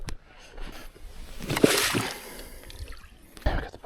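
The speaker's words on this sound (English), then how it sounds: "Got the boat in the water." A boat slides off a low-water boat ramp into a lake, giving close, rough sloshing and rushing water with a loud surge midway and a sharp knock near the end.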